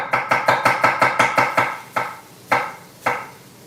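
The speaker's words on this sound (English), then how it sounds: "I cut up the onion, because onion is nice and sweet" A kitchen knife chops an onion on a cutting board in a cooking demonstration, with a fast run of about ten even, crisp close chops that slows into a few spaced strokes.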